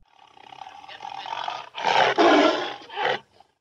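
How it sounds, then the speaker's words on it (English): A tiger lets out a few loud, harsh roars in close succession, rising in strength after a rumbling growl. "tiger"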